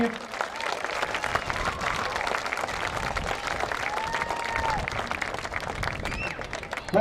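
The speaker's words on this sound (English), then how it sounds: "give all these young ladies another round of applause to recognize their many accomplishments" A crowd applauds young women at a coronation ceremony held during a high school football game, with sustained, even clapping from the stands and some voices mixed in.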